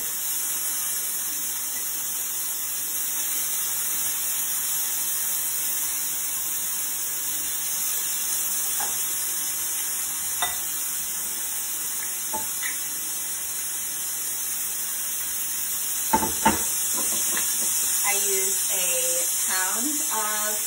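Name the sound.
sirloin steak stir-frying in oil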